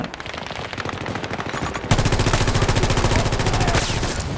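Rapid automatic gunfire from a weapon in the video game Battlefield 2042 rattles loudly. It starts in quieter bursts and becomes a dense, sustained stream of shots partway through.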